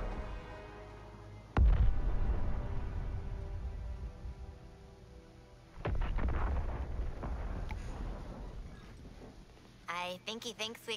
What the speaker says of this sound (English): That artillery is going to wreak havoc on our front line.